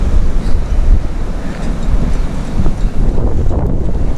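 Strong wind buffets the microphone on a cold March beach at Runswick Bay, a loud, constant low roar with gusty swells and surf noise mixed in.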